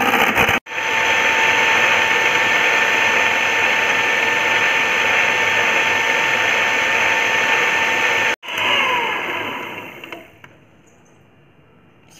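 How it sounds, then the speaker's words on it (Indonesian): An electric mixer whips cream made with ice water at high speed, a loud, steady motor whine that runs with two short breaks before winding down and falling quiet near the end. "Kita mixer dengan kecepatan tinggi selama 6 sampai 7 menit."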